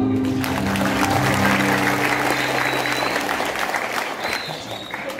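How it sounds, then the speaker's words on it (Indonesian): Audience applause at a madrasah gathering, a steady spread of clapping with sustained tonal hum or music underneath and faint background voices, fading a little toward the end. "Tepuk tangan."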